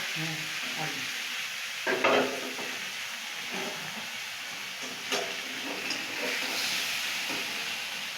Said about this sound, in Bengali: এবার ভেজে রাখা ভেজিটেবলগুলো মা দিয়ে দিচ্ছে